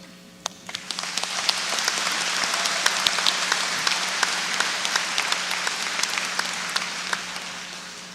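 An audience at a 2012 fall university commencement ceremony applauding steadily, a dense wash of many hands clapping at an even level for several seconds, with a few sharper individual claps standing out.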